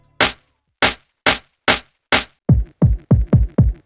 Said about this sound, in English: I layered the snare with itself.